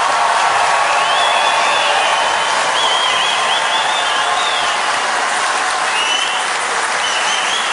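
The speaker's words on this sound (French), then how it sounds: "Applaudissez-les le plus fort possible." Loud, sustained applause from a large crowd filling stadium stands at the opening ceremony of WorldSkills 2023 in Lyon, a dense unbroken roar of clapping with faint cheers lasting throughout.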